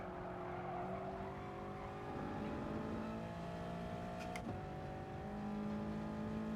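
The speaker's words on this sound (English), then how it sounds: "I am revving it a bit, but I'm not revving it flat out" A race car engine in a GT Sport race revving and changing pitch through the gears, a continuous droning tone that climbs, drops at a shift and climbs again, close and steady.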